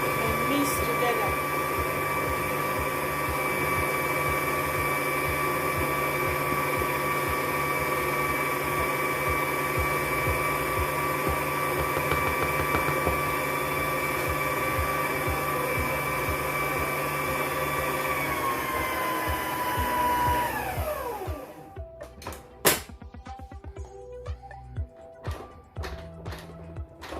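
An electric mixer beats vanilla sponge cake batter with flour, a steady whirring hum held at even loudness for about twenty seconds, then winding down and cutting off, followed by a few light knocks and clatters.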